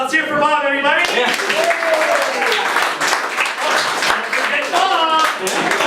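Audience applause and clapping during a stage comedy performance of abridged Shakespeare, rising under loud overlapping voices and cheering shouts that dominate throughout.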